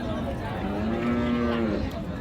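A Friesian cow lets out one long, low moo that swells and fades, close by, over a steady background murmur at a livestock market.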